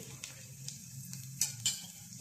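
Shallots fry quietly in a pan of golden onion and cumin paste for a koramenu fish curry, giving a soft continuous sizzle with a few faint clicks of a utensil.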